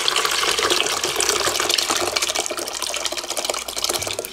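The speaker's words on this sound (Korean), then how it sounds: "그러면 또 물을 좀 부어줍니다." Water is poured gently into a pot while making Gyeongsang-style mudfish soup, producing a steady, soft trickling splash throughout with no speech.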